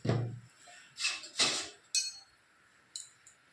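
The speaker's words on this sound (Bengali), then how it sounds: "চামচ নিয়ে নিলাম" A spoon clinking against dishes, producing a handful of sharp, bright clinks spaced irregularly in an otherwise quiet room.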